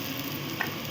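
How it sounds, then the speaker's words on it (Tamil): Ginger garlic paste sizzles with fried onions in a hot pan, a brief, dense hiss with a faint stir, close and steady, with no voices. "இப்போ இதில் வந்து நான் என்ன பண்ண போகிறேன்னா கொஞ்சம் வந்து இஞ்சி பூண்டு விழுது வந்து சேர்த்துக்க போகிறேன்"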